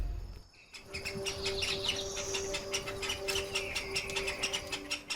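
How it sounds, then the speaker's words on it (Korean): Birds chirp and trill in rapid, overlapping calls set against a steady shrill insect drone, heard in a jungle scene from a Tarzan film. The chorus stays continuous and moderately loud, with no voices. "새가 짝짓기 하는 소리"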